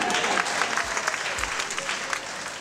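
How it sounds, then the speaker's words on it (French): An audience at a comedy festival applauds, with dense, continuous clapping at fairly loud level that runs throughout with little change. "On applaudit pour moi,"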